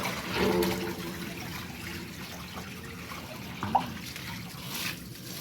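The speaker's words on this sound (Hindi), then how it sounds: "ये पहले वाला गंदा पानी जो है ना गिरा देती हूँ" Old standing water poured out at home in a kitchen, a soft trickling splash running under faint room noise, with a brief clink near the end.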